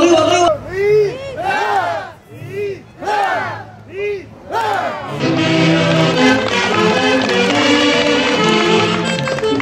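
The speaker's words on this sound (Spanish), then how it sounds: "Y vengan los aplausos nuevamente." At a wedding reception, guests clap and cheer loudly as the couple enters the hall, after a few bursts of shouted voices.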